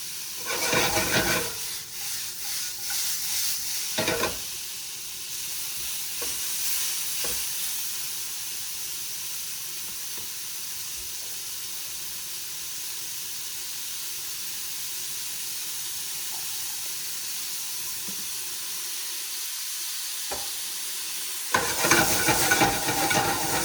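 Mushrooms sizzle and hiss softly in a pan for a long stretch, with occasional clatters of stirring and louder bursts at the start and end.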